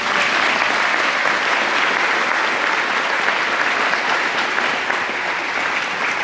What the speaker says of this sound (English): Let's give Edie and Bonnie another round of applause.